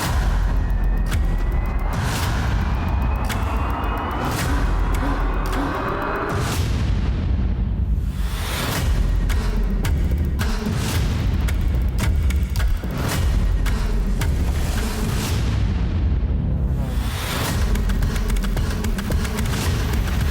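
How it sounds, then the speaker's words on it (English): Synthesized riser made in Serum, dense and loud throughout, with heavy booming metallic bangs landing at regular intervals over a sweeping, noisy wash that builds and falls repeatedly. "Love the metallic bangs in there."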